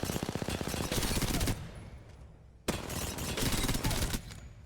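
Automatic weapon fire in Apex Legends, two sustained bursts of rapid, evenly spaced shots, loud and close, split by a brief quiet gap.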